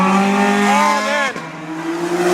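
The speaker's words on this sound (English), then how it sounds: "Oh, the sound is so good. Oh, that's beautiful." A high-revving Ferrari V8 engine screams past close by, pitch climbing through rapid gear changes before dropping as it pulls away.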